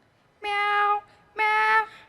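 A human voice imitates quarrelling cats with two drawn-out, whining meows, loud and close, separated by a short pause.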